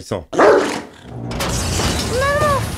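A dog barks sharply at close range, followed by a rising whine, with voices talking at the same time.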